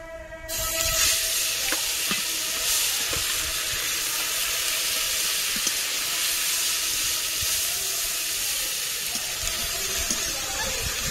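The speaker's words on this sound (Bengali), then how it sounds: "কিছুক্ষণ পেঁয়াজটা ভেজে নিতে হবে" Onion paste frying in a pan with cardamom and whole cumin for a prawn malai curry, a steady close sizzle and hiss with occasional stirring scrapes, no voices.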